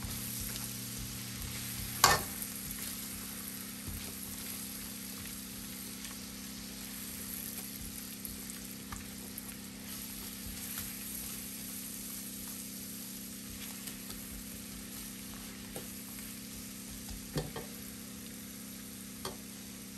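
Onions frying in a pot as the base for a spicy seafood boil, a steady sizzle running throughout with a few sharp clinks of a utensil stirring against the pot.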